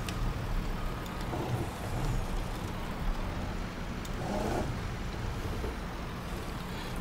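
A tractor towing a trailer manoeuvres on a farm near a silage store, its engine a steady low rumble throughout with slight surges as it repositions, no talking.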